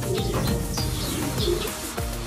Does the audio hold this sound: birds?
yes